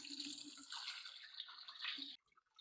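Soaked clay water for a homemade Ganesh idol is strained through a sieve, a soft continuous splashing trickle that stops abruptly near the end, leaving faint drips.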